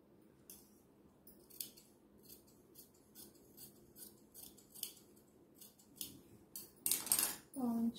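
Scissors snip through cotton blouse fabric while cutting the back piece, a run of quick soft crisp cuts close by, with a louder rustle of handled cloth near the end.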